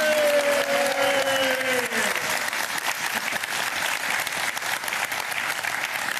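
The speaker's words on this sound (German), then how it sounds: "Einen großen Applaus" A TV cooking-show studio audience breaks into loud, sustained applause, with a brief tonal voice-like sound fading in the opening seconds before the dense clapping carries on alone.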